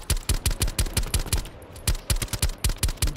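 Rapid bursts of automatic gunfire in Fortnite, sharp repeated shots in quick clusters with a brief pause midway, loud and close, no voices.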